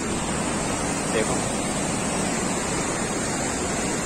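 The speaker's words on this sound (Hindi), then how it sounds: "छोटा सा एक नदी का व्यू दिखाता हूँ आपको" A small mountain river on the Kedarnath trek near Gaurikund rushes steadily, filling the scene with broadband water noise, while someone says a single word close by.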